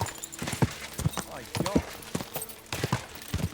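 A horse's hooves clatter in a quick galloping rhythm in Kingdom Come: Deliverance II, mixed with game sounds and someone talking over it.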